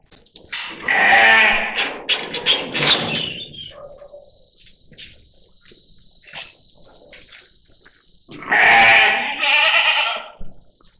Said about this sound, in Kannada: ಇದು ಕುರಿ ಮತ್ತು ಮೇಕೆ ಘಟಕ.